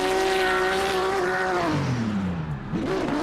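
Toyota Supra drift cars in a VDC drifting game at Long Beach race close together, engines droning loud and continuous, their pitch dipping and rising again as they flick through a corner.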